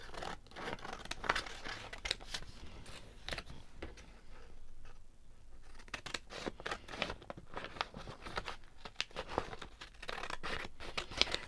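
Scissors snip and trim collage paper in quick, irregular cuts with crisp rustling, close and steady throughout, with no talking.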